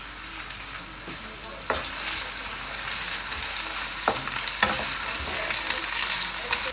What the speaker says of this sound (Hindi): जो मेरे पास अनियन है इनको हमने हल्का सा फ्राई कर लेना है।